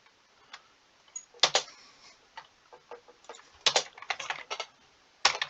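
Typing on a computer keyboard comes in scattered bursts of quick, close key clicks separated by short quiet pauses, fairly faint overall.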